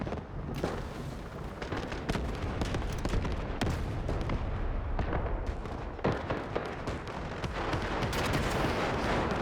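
Rockets and gunfire in the shooter Delta Force, with dense, continuous bursts of shots and booming blasts that overlap for the whole stretch at steady high loudness, and no voice in the foreground.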